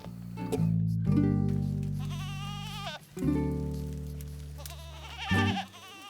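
Goats on Wells Farm in Horse Shoe bleat loudly and close by, several long wavering calls in a row with no talk over them.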